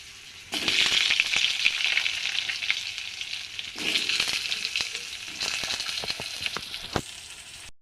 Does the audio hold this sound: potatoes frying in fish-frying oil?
yes